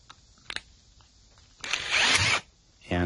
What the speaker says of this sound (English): You just put your drill on there